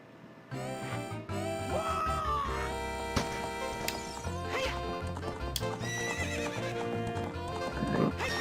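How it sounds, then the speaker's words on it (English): Game audio from Zelda: Ocarina of Time of a horse galloping around a corral, with steady hoof clip-clops, whinnies and bright synthetic music layered together, loud and continuous after a brief quiet start. "We'll lap around the corral with that horse."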